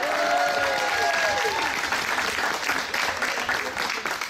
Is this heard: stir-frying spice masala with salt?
no